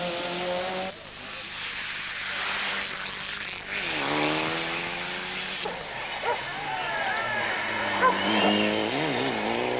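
A Peugeot 106 rally car with a 1600 engine races past on a show stage, its engine note rising and falling through gear changes with tire noise, loud and close, without any talk.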